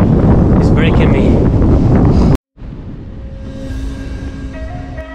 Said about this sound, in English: The wind is breaking me, it's breaking me.